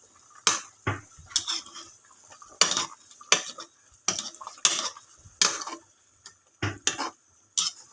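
A utensil stirs sautéed sweet potato leaves with fried fish in a pan, giving a string of distinct scraping, clinking strokes at an uneven rhythm, close and fairly loud, with no talking.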